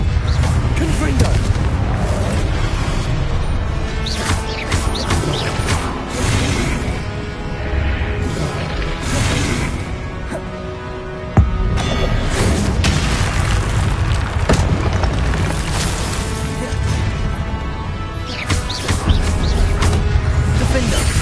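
Confringo blasting spells going off in the Hogwarts Legacy video game, dense booming explosions and crashing effects rolling almost continuously over a loud game mix, with one sharper blast near the middle.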